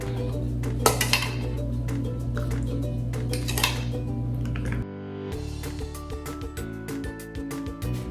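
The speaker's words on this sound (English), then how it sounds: "All right, I'm whisking it all up and it smells delicious." A whisk clinks and scrapes around a bowl mixing a lime juice and cider vinegar dressing, a close, busy metallic rattle that shifts to lighter taps partway through.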